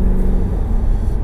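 Tuned Mercedes C63 AMG with a 530bhp MSL-tuned engine, a loud, steady low rumble that holds throughout the short stretch with no break or talk.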